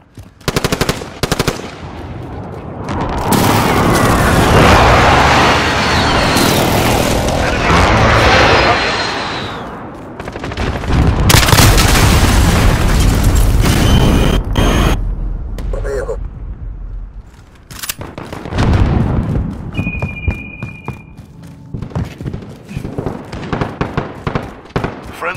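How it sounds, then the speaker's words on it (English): Precision airstrike explosions in a video game hit as loud, dense bursts of blasts mixed with rapid gunfire-like crackle, the heavy barrages rolling in waves with brief lulls between them. "Friendly precision airstrike on the way."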